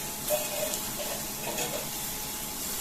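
Tomatoes sautéing in a pan for restaurant-style chilli paneer, giving a steady, soft sizzle with faint stirring scrapes, fairly quiet and even throughout with no talking.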